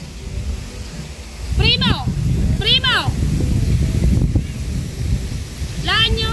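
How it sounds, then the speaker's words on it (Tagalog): Strong wind blows outdoors at a kite-flying outing, a loud low roar and buffeting against the microphone. A man calls out briefly over it, and a few high warbling calls cut through. "ganun kalakas yung hangin mga idol"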